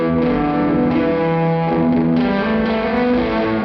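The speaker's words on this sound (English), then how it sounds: "There's clearly some kind of delay or reverb effect" Sustained electric guitar chords drenched in a delay effect, repeats smearing into a thick wash of echoing, slightly distorted tone with no pauses.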